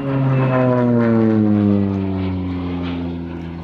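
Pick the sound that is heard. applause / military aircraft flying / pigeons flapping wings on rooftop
military aircraft flying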